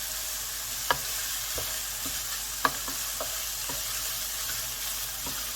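Sausage meat with herbs sizzles steadily in a frying pan while a utensil mashes and breaks it up, sharp scraping taps standing out above the constant frying hiss.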